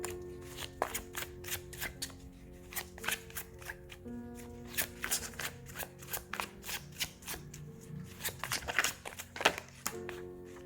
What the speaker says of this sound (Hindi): हम सबसे पहले आपके लिए कार्ड शफल करते हैं।